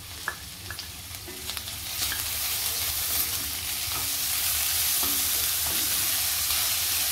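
Ginger garlic paste, freshly crushed in a mortar, hits lightly pinked onions in a pan for a mushroom masala and sizzles loudly and steadily, with a few spatula scrapes and stirs near the start.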